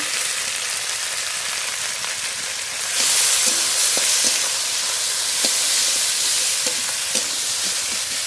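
Radish greens with salt and turmeric fry in a pan, a hissing sizzle that swells louder partway through, with light scrapes and taps of stirring scattered across it.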